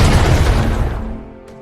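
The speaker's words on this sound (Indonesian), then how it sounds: "Mereka diperintahkan untuk menembakkan mortar ke arah lokasi target." A mortar round explodes in a war film, a single loud, close boom that rolls off into a fading rumble over a second or so.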